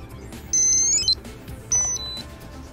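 Two high electronic beep sequences from an Accsense A2-05 wired LAN pod during reset, each a held tone dropping to a lower note, separated by a short pause over faint background noise.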